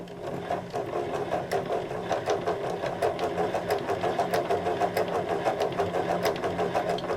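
A yarn winder spins yarn into a cake with a steady mechanical whir and fast, regular clicking ticks, close and continuous throughout.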